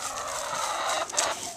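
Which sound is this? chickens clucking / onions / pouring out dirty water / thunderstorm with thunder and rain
chickens clucking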